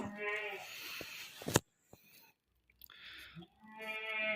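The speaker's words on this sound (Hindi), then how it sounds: "चौड़े सीने वाला बकरा है ये माशाल्लाह से" Goats at a livestock market bleat in harmonic, wavering calls, one near the start and another after a quiet pause, with a sharp knock between and faint background noise.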